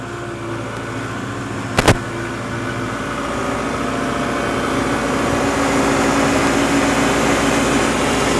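A tractor engine runs steadily under load while pallet forks lift trees, a low continuous drone that swells slightly toward the end, with a sharp brief knock near the start.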